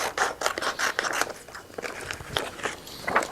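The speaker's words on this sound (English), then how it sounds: "I'll take a pair of scissors and trim apart my designs" Scissors snipping through cut vinyl sheet designs for decorating high school team jerseys, a quick run of close, crisp snips and rustles repeating irregularly throughout.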